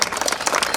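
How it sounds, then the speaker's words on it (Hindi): Audience applause for a medal winner at a prize distribution ceremony, a short dense burst of clapping from a crowd, fairly close and continuous. "विजेता मेडल, आप तालियों से स्वागत।"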